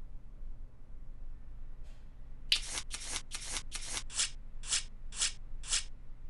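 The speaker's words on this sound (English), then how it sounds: "Gonna cut the cards." Playing cards are cut and then shuffled for an online baccarat game: after a faint tap, a quick series of about nine crisp, close riffling bursts comes at a steady rhythm, each briefer and lighter than the last.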